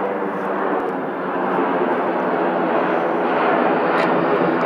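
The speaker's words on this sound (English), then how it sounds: "Check out that plane. That is a military plane," A loud military airplane flies overhead, its engine roar a steady broad rumble that swells slightly as it passes close, with no talk over it.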